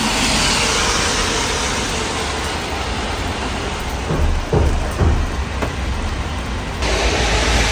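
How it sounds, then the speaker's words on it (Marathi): Steady rain hisses close by, with a few louder thumps and splashes partway through. "पाऊस पडतोय बघा"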